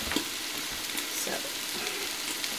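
Bacon fries in a pan while Korean black bean sauce (jajangmyeon) is being cooked, giving a steady close crackling sizzle with scattered sharper pops throughout.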